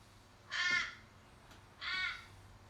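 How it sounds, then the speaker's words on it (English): Two harsh crow caws about a second apart, fairly distant and clear against a quiet outdoor background. "The crows sound the same no matter where you go."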